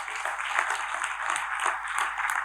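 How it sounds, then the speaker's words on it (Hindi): An audience clapping at a network marketing talk, a brief burst of steady, moderately distant applause holding at an even level for a couple of seconds with no voices over it. "एक बार ताली बजाइए इसके लिए।"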